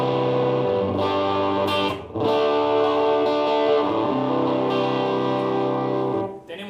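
Electric guitar played through a Fender Champion 100 amp on its Tweed overdrive channel, vintage-style crunchy distortion with sustained ringing chords, a brief pause and restrike midway, loud and close, no voice.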